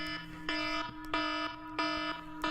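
A timer alarm goes off in a repeating electronic pattern, bright tonal beeps pulsing in steady bursts about every half second, fairly quiet and alone.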